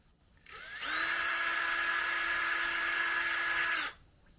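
A power drill fitted with a polishing attachment whirs steadily against a rifle breech for about three seconds, starting and stopping cleanly, loud and close with no talk.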